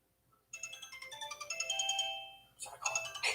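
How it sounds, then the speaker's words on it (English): A default phone ringtone sounds for an incoming call, a bright repeating melodic chime that rises in loudness, pauses briefly, then resumes with a new burst of tones. "We're getting a phone call."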